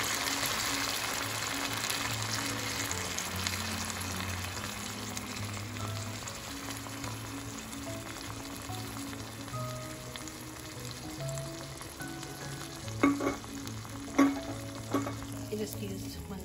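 Strained tomato passata hits a hot, slightly smoky pan for a prosciutto and peas sauce, giving a steady, close sizzle that fills the whole stretch, with a few sharp utensil clinks near the end.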